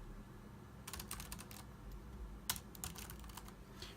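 Soft clicking keystrokes on an FD 3380 Bluetooth multi-device keyboard, two quick irregular bursts of light taps, faint and close, over a quiet room hum.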